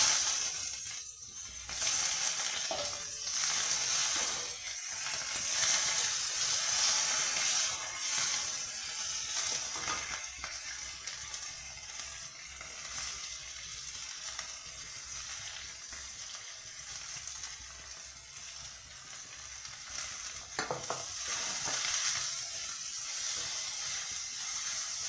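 Dried red chillies and nigella seeds fry in hot oil for sola kochu bata, a steady close sizzling hiss with occasional soft stirring clicks, no voices.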